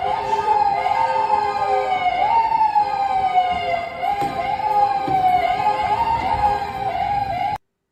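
A loud police siren on a Chevy wails continuously nearby, its pitch rising and falling in slow sweeps before stopping suddenly.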